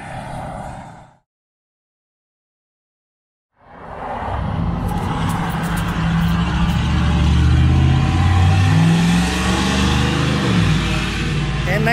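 A vehicle engine roars up on a road in Texas during a motorcycle ride between Burnet and Granbury. After a short silence it rises to a loud, sustained drone with climbing, revving tones.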